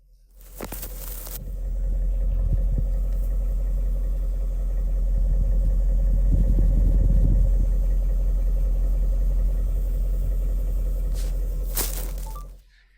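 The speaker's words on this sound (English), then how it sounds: "So nice easy idle." A 2000 BMW 540iA V8 engine idles slowly and steadily at about 500 RPM with a deep, low exhaust rumble, close by, starting and ending with brief clunks and no voices.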